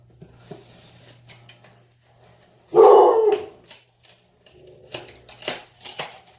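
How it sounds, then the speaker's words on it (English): One sharp dog bark rings out near the middle, followed by scattered clicks and light tapping sounds in an otherwise quiet room with a low hum. "That's my dog that barks at literally everything."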